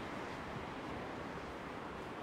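Sea surf washing onto a beach at Side in the evening, a steady, even wash of broadband noise with faint wind, quiet and continuous, no talking.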